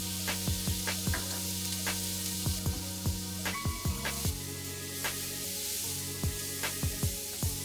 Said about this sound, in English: And then I put in the onions.